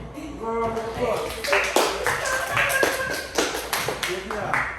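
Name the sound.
class applause, clapping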